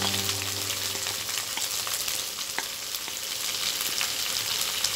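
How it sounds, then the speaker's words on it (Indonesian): Shallots, bird's eye chilies and red chilies sauté in a pan with garlic, giving a steady, close, dense sizzle that runs unbroken throughout with faint stirring clicks and no voices. "Kita tumis sampai semua bumbu-bumbunya matang."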